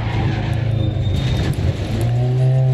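A rally car slides through a left turn on dirt, understeering, its engine droning steadily and loudly, with tire scrub and a rising note near the end.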